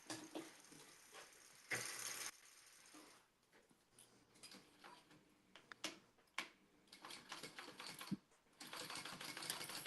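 Sewing machine top stitching vinyl on a clutch wallet, a quiet close whirring run broken by stops, clicks and handling noises.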